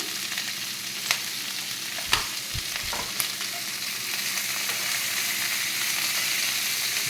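Capsicum stirring in a pan with salt, a steady frying sizzle running throughout, broken by a few sharp clinks of a spoon against the pan.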